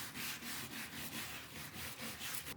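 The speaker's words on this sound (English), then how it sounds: "I'm going to grab my scrubber brush, and this is plastic bristles, so it's not metal, they're just plastic, but they're stiff" Stiff plastic-bristle scrubber brush scrubbing foil onto a wreath board: fast, close back-and-forth rasping strokes in an even rhythm, with no talk.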